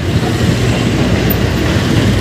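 A train passes loudly and close by at a crossing near the NLEX Connector on Ramon Magsaysay Boulevard, a dense, continuous rumble of wheels and carriages filling the short moment.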